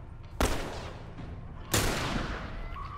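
Two loud, close gunshots ring out in The Last of Us, about a second and a half apart, each with a sharp crack and a lingering echoing tail.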